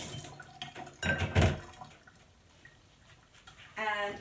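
Filtered water is poured briefly into a homemade salad dressing with a short watery splash, framed by light clinks of kitchenware and a dish clatter near the end.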